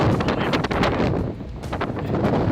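Gusty coastal wind at Bamburgh roars and buffets close to the microphone, dipping briefly in the middle before surging again.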